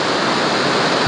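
A waterfall in the dry summer season pours with a steady, dense roar of rushing water. The sound is loud, close and unbroken for about a second, with no voices.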